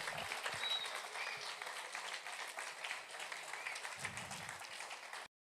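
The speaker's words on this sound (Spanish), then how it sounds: "Dale un aplauso al Señor." Congregational applause during a church sermon, a dense steady wash of many hands clapping at moderate distance, sustained for about five seconds before cutting off abruptly.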